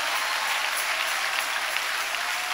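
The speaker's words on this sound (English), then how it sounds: "The women, clap for Jesus." A church congregation claps together in sustained, dense applause, loud and continuous throughout, with no speech over it.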